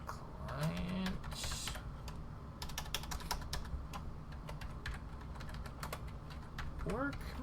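Keys clatter on a computer keyboard in quick bursts, close and moderately loud, while a voice speaks over part of the typing.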